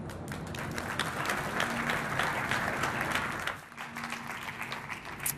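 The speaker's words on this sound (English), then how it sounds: "give it a round of applause for Julien" An audience at a Facebook tech talk on server infrastructure gives a round of applause, dense clapping from many people that thins out partway through, leaving scattered claps and room noise.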